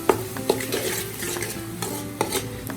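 Onions frying and being stirred in a pan, with clattering utensil scrapes and knocks at irregular intervals over a soft sizzle, close by.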